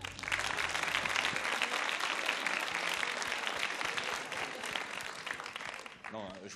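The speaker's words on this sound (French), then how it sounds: "Vous pouvez l'applaudir, hein." An audience at a French university pleading competition semi-final claps for the jury president, a full, lively round of applause that fades near the end as a voice begins to speak.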